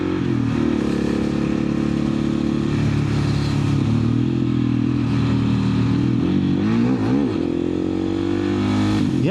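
A KTM 690 SMC supermoto's single-cylinder engine runs loud and close throughout, holding a steady throb before a sharp burst of quick revs as the clutch slips, then settling again.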